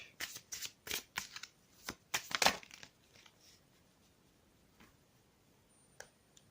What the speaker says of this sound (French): Je vais demander des cartes complémentaires par rapport aux cartes que nous avons eues.